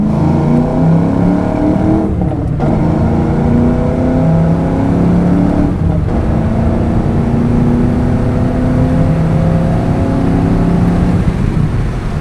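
A 1993 Ford Mustang Cobra engine pulls hard and steady, its revs climbing through manual gear changes with brief dips, loud and close throughout.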